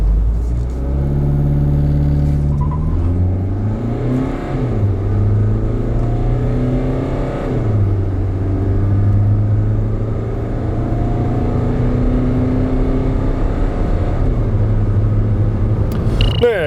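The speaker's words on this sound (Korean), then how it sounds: "그럼 이쯤에서 티볼리의 가속 성능에 대해서도 한번 알아볼까요?" SsangYong Tivoli Armour 1.6 diesel accelerating hard, with a loud continuous engine drone climbing in pitch through several gear shifts, each shift dropping the revs before they rise again, heard close from inside the cabin.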